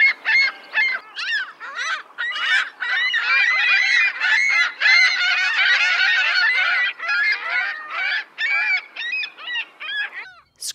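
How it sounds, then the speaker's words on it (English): Ring-billed gull giving a long run of harsh, laughing calls, loud and close, in dense overlapping bursts that continue for about ten seconds with no talk. "demented laughing of the ring-billed gull"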